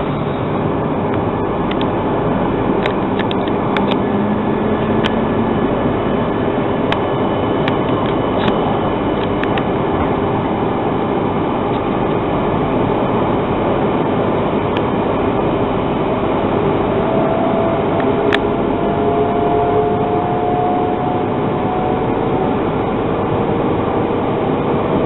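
Steady interior rumble of an E3 series 0 Shinkansen, a former Komachi set, running between Ueno and Tokyo, with continuous rolling noise, faint tones and occasional clicks throughout, no voices.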